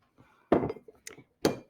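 Ice cubes clink into a glass while a gin and tonic is being made: a soft tap, then two sharper, bright glassy clinks, with small knocks between them, close and alone.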